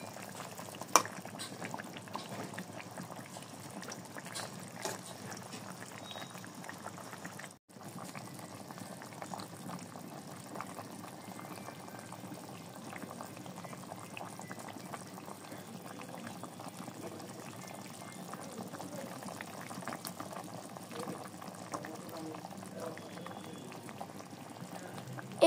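Fish curry simmers in a pot with a faint, continuous bubbling and low churning that stays even and quiet from start to finish, broken only by one brief dropout.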